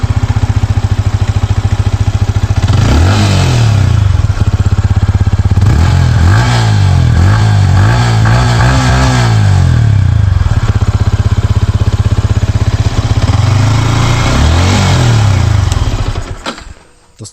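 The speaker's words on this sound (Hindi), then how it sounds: "बाइक का मैं आप लोग को साउंड सुना देता हूँ जाते जाते।" A Yamaha MT-15 V2 motorcycle engine idles loudly and steadily, with several throttle blips rising and falling in pitch before cutting off abruptly at the end.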